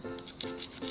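A ferro rod fire starter scraped in three quick rasping strokes at a campsite barbecue, each a short gritty scrape close to the microphone.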